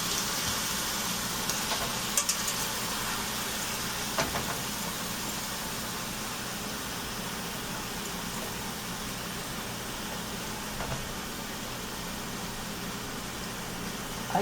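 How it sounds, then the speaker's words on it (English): Fish pieces fry in a little oil over low heat, a soft, steady sizzle with faint crackles, continuous and even throughout with no talk. "Initially I'm just going to fry it like this with low heat."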